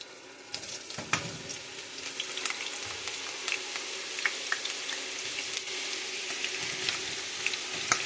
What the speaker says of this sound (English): It's ready to fry.